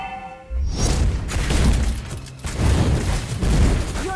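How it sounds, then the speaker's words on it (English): In the Mobile Legends video game, an enemy turret is destroyed in a dense burst of crashing, shattering booms that carries on loudly for several seconds with a second surge midway. "Your team destroyed the turret!"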